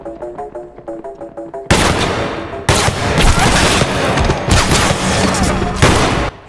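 Machine gun fire in the VR shooter Heartshot VR: loud, sustained bursts of rapid automatic fire in several long volleys separated by short breaks, after a quieter stretch of music.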